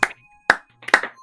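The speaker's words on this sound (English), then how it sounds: "Give him a round of applause" A few sharp hand claps, three or four separate bursts, close and crisp, with brief pauses between them.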